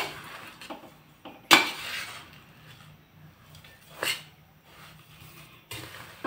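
Powdered sugar being stirred into a karanji filling of roasted semolina, sesame, cardamom and grated coconut in a pan, with sharp utensil scrapes and clinks at intervals against quiet background.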